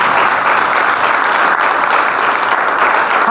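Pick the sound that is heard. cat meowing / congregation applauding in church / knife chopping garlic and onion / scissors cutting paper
congregation applauding in church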